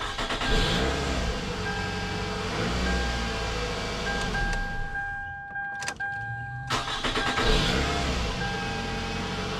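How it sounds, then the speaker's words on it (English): A 2004 Toyota Camry with a newly replaced starter cranks and fires up, the engine running steadily close by with a brief lull partway through before the idle returns. "So I'm going to start up the vehicle."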